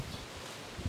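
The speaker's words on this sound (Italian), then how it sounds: "oddio c'è il vento" Outdoor wind rushes steadily against the microphone as a continuous broadband roar with low buffeting gusts, especially near the end.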